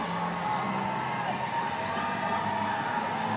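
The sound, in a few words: stadium crowd cheering wildly in the stands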